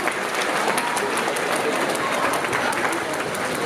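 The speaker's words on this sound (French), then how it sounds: "Applaudissez-le." Audience applause at a manga convention talk, a steady dense wash of clapping filling the room from start to finish at even loudness.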